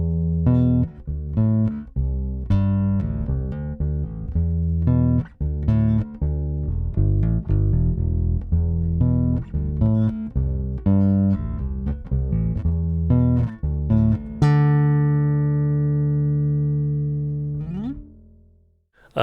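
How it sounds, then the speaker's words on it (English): A bass guitar plugged directly into an Mbox interface, playing a steady run of close, punchy notes for most of the stretch, then a single sustained note ringing out and fading near the end, with no talk. "let's see what the same bass sounds like plugged directly into my Mbox that I've got"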